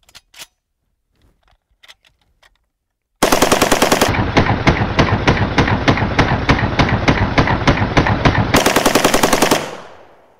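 A custom M14 rifle in a video game, fitted with a muzzle brake and chambered in .308, fires a long loud sustained automatic burst after a few faint clicks, then the shots cut off and fade.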